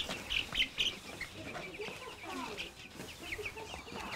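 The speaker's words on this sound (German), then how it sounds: "Auch die Küken und eines der Kinder gehören zu Karl Ferdinand von Lüning." Chickens and chicks cluck and peep nearby, with a few sharp high calls at the start and softer clucking afterward, set against faint background noise.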